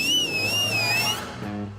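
A person gives a steady, high, wavering whistle to stop a bus. The sustained tone lasts about a second over low background noise and then fades out.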